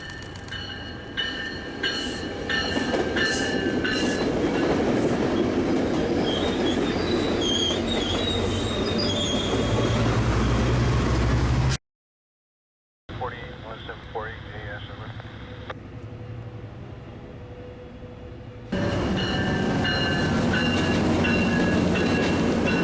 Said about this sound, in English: Metrolink 689 is the last LA-bound Orange County line service of the day.